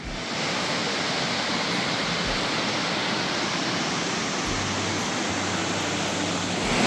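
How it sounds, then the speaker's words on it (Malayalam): Loud, steady roar of rushing water fills the whole stretch without pause, like a nearby waterfall or torrent drowning out everything else, at Anangamala in Palakkad, Kerala. "മുഴുവൻ വെള്ളത്തിന്റെ സൗണ്ട് ആട്ടോ ഒന്നും കേൾക്കാൻ പറ്റുന്നില്ല"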